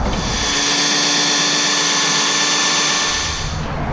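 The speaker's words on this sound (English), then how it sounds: "I'm going to drill a hole into here and then continue." A power drill whirs loudly and continuously while drilling a hole during an HID xenon headlight kit install on a BMW 1 Series, a steady high-pitched motor whine holding for several seconds before easing off at the end.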